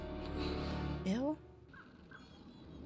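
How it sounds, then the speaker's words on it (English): A crow caws once in an animated fantasy series, a short harsh call rising over background music and voices, with people talking in the scene. "Dead Raven Crow?"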